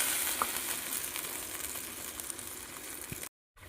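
Fish curry sizzles and bubbles loudly in a pan just after water is poured in, a dense steady hiss with small pops that cuts out abruptly near the end.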